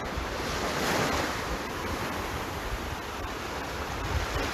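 Sea waves wash steadily onto a beach under strong wind, a continuous loud roar of surf with gusty rumble buffeting the microphone throughout.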